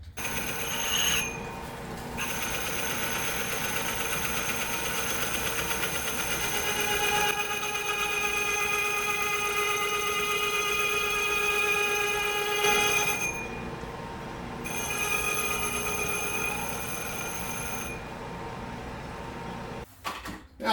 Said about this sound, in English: cam gear's in the lathe. Take about 80 thousandths off the back side of it.